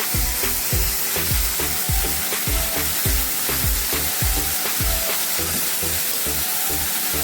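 Sprouted moth beans tossed into a hot pan with curry leaves set off a loud, dense, steady sizzle and crackle, close up and continuous, with rapid popping bursts throughout and no talking.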